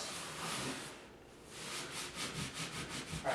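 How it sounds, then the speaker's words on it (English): A sponge or rag rubs over wall putty to smooth a filled fastener hole, giving faint scrubbing strokes that pause briefly and then turn into quicker, rhythmic back-and-forth passes. "Run the sponge or rag over the putty in a continuous motion until it's smooth with the surrounding wall."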